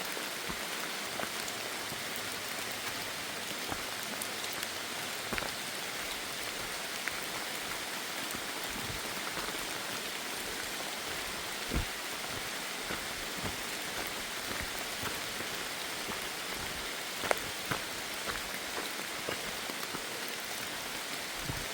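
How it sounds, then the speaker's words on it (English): Steady rain pours down on an Appalachian Trail hike in North Carolina, a dense hiss of drops with occasional louder splashes, continuous and unbroken with no voices. "I don't like walking in the rain"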